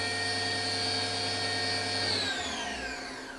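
The spindle of a 2000 Fadal VMC 2016L vertical machining center spins at high RPM, a loud, steady mechanical whine with layered tones that drop in pitch as it slows near the end.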